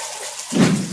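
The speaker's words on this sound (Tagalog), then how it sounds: "Pagkatapos, nilalagyan natin ng tubig." Water is poured onto fish feed pellets partway through, a sudden splashing gush that fills the quiet and keeps running steadily to the end.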